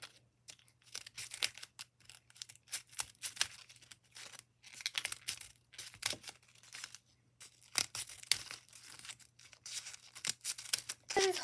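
Scissors cut through a stack of paper into small random pieces, a close series of crisp snipping and crunching strokes in irregular bursts with short pauses, over a faint steady hum and no speech.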